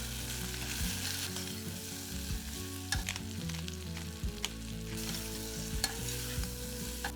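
Vegetables for a vegan butternut squash soup fry in a pot with chili powder, salt and pepper, giving a steady close sizzle with occasional stirring clinks and scrapes.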